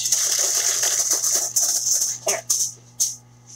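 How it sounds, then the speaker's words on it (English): Aluminium foil crinkled and handled in a kitchen while making strawberries-and-cream puppy chow, a steady close bright rustle that breaks into a few sharper crumples before trailing off. "Foil is not silent."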